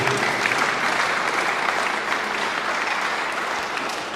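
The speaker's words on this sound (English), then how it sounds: "Big round of applause finally for all of the teams participating." A crowd at a youth cricket tournament media launch gives a steady round of applause, a full, even wash of many hands clapping close and loud throughout.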